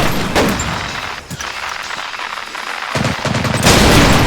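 Machine gun fire rattles in rapid continuous bursts in the World War II shooter Medal of Honor: Pacific Assault, loud and close, with a brief lull midway before heavier firing resumes amid battlefield noise.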